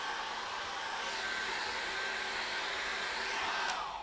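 A hair dryer blows on acrylic paint on paper, giving a steady, continuous whooshing whir that holds at an even, fairly loud level throughout with no talking.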